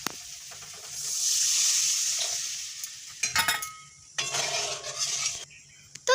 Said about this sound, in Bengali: যখন মশলা থেকে তেল ছেড়ে আসবে তখন আমরা এর মধ্যে 1 বাটি মতো জল দিয়ে দেবো